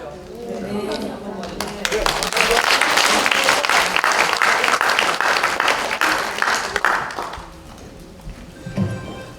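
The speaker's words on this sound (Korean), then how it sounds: "다시 한번 명강의를 해주신 신광철 스님께 다시 한번 큰 박수 부탁드립니다" An audience at a special lecture in a National Assembly conference hall breaks into loud, sustained applause that swells, holds for several seconds, then tapers off, with a voice heard faintly at the edges.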